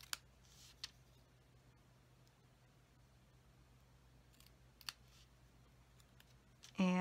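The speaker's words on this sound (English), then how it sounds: "I'm just going to cut a banner tail on the back end of this." Scissors snip a banner tail into card paper in a few sparse, faint cuts set against a quiet room hum.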